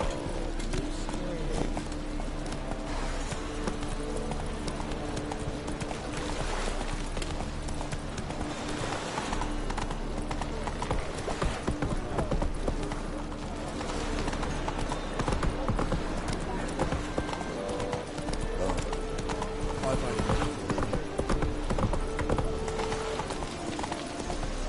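Hooves of Roach, a horse in the video game The Witcher 3, clip-clopping in a steady rhythm under a dense layer of in-game music and ambience, with voices talking over the hoofbeats.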